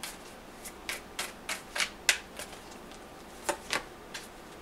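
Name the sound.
shuffling tarot cards before pulling a card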